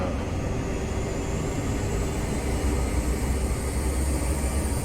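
A Class 43 HST diesel train in Train Simulator Classic runs at about 85 mph between Newcastle and York, giving a loud, steady engine drone and rolling rumble that holds unbroken, with no voices.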